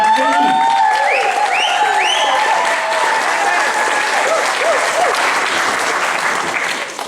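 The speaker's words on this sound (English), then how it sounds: "Can we give a massive cheer for Fean?" A cinema audience cheers and applauds loudly for a performer at a screening, dense continuous clapping with whoops and shouts layered over it, holding strong for about seven seconds before it starts to fade at the end.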